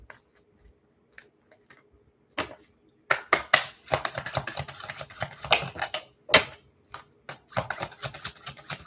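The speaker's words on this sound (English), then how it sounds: "These cards are so easy to shuffle." Crisp, rapid flicking and riffling of tarot cards, starting sparse and quiet, then building into dense bursts of shuffling close by.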